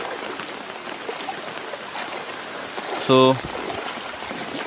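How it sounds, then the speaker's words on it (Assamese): Floodwater of a swollen river rushes steadily through a flood-hit village area in Dhemaji, a continuous broad wash of flowing noise with a brief tonal beep partway through and a person speaking over it. "এফালে নদী এখন বৈ আছে"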